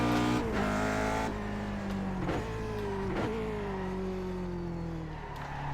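Lotus 49 race car engine in the iRacing sim, a steady, loud, close engine drone whose pitch slowly falls, with a couple of brief shifts in its note and no talking.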